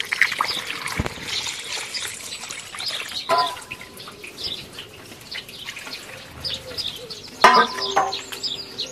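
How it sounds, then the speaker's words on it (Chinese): Seasoned liquid is poured into a large beef lung outdoors, producing an uneven trickling and gurgling with brief splashes and knocks, while birds chirp in the background. "把料水灌到沸子里。"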